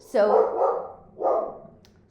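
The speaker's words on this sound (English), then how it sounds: "sorry, that's my dog barking" A dog gives two sharp barks close by during a home algebra lesson, each bark spaced about a second apart and loud against an otherwise quiet room, with a person speaking briefly.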